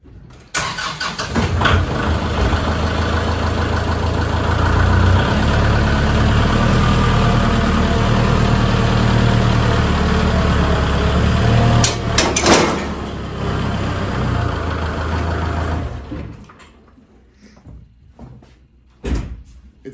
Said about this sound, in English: I'm going to back up, hook up, and you'll see how easy it connects and disconnects.